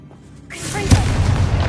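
A spell explosion from Bombarda in the video game Hogwarts Legacy: after a quiet start, a single loud boom hits and rumbles on in a deep, sustained blast.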